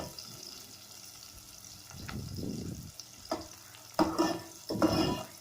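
Garlic and onion sautéing in a pan for spicy Filipino chicken tinola, with a soft sizzle and bursts of scraping and stirring that grow louder toward the end, close by and without talk.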